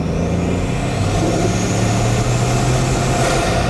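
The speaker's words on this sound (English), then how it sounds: "the whole point of the Mistral is getting to experience that addictive engine noise" The engine of a Maserati Mistral runs loud and close, a continuous rich drone that holds steady throughout.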